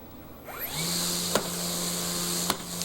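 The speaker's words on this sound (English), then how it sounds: "now for my favorite part, the string trimmer" A string trimmer is started up in a garden. Its motor whines up quickly to a steady, loud buzz and then runs on with a couple of brief sharp knocks, close to the microphone.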